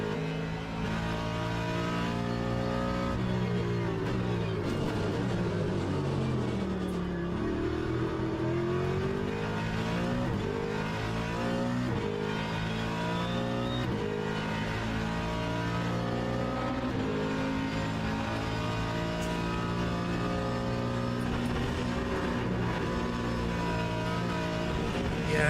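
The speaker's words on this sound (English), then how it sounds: "Right, the hypercar's coming through now." A hypercar in a sim racing game at Spa roars past during an endurance race, engine revving and shifting pitch continuously over a loud, constant wall of car noise with no talking.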